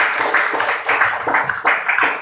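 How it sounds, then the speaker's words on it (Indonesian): Audience applause for a speaker in a classroom-style session, a short burst of clapping from a small group with uneven, pulsing rhythm, close and fairly loud. "Tepuk tangan untuk Anda."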